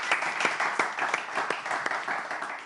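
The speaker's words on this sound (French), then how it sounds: "On applaudit." An audience applauds at a televised ceremony honouring a participant, with a dense, moderately loud patter of many hands clapping steadily throughout and no talk over it.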